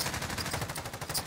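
Rapid gunfire from the video game Modern Warfare in its Survival mode, a dense continuous burst of shots lasting over a second, fairly loud with no voices over it.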